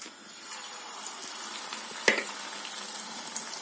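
Fuyung hai egg mixture hitting a hot pan, a soft continuous sizzle with one sharp splash-like crackle midway, close and fairly quiet, no speech.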